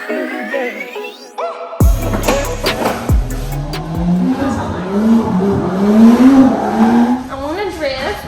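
A car drifts close by with loud, sustained tire squeal and revving engine, including sharp bursts and skids, while people talk over the noise.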